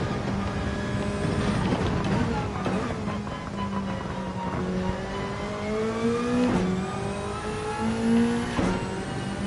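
A four-cylinder Toyota race car engine in Gran Turismo 7 revs loudly and continuously through rising and falling pitch sweeps as it accelerates and shifts, racing on a wet track.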